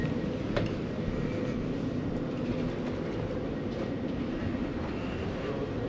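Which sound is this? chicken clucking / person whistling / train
train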